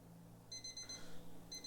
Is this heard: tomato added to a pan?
no